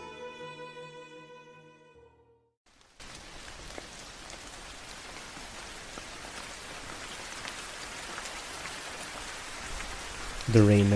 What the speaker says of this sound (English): The rain never seemed to end that day.